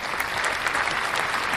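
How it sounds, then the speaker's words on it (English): Dense burst of canned applause played as a sound effect, steady broadband clapping filling the short stretch, loud and close with no voices over it. "because you played the applause"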